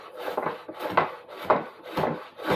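A hand plane is pushed along a wooden board in steady, repeated strokes about every half second, each a close, rasping shave that swells and fades in an even rhythm.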